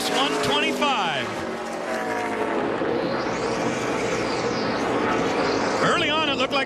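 ARCA race cars at Pocono on the final lap of the Mod Space 125 roar past in a continuous, loud engine drone with rising and falling pitch sweeps, while a commentator talks over the noise.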